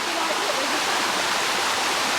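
Fast-moving river water rushing over a dam in Salisbury, a steady loud broadband roar with no breaks, close by.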